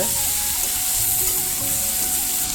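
Ridge gourd with poppy seed paste sautéing in a pan, producing a continuous, close, even sizzle with a faint steady hum underneath and no voices.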